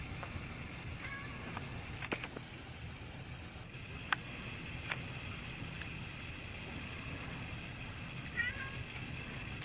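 A cat meows faintly a few times in a quiet room, brief soft calls over low background hiss with occasional small knocks.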